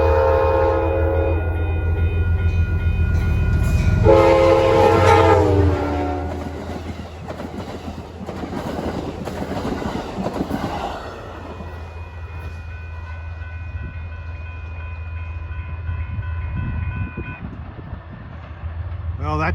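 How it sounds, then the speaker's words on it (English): Amtrak's Lakeshore Limited, train 48 from Chicago to New York, rolls by at a level crossing at Manitou on the Hudson; horn blasts sound up close, followed by steady rumbling and clickety-clack of passing cars, with crossing bells ringing throughout. "this is train 48, the Lakeshore Limited from Chicago to New York."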